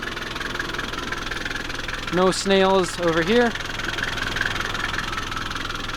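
A 2.7 liter non-turbo Nissan diesel engine in a 1993 camper idles with a steady, even clatter while someone briefly speaks over it.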